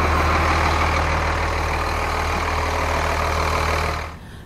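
A California school bus engine idles steadily with a low droning hum and a constant mechanical rumble, close and alone, then cuts off abruptly near the end.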